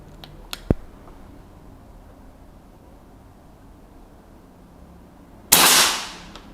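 A few faint clicks, then after a quiet stretch a single sharp shot from a scoped air rifle with a short hissing release, close and loud.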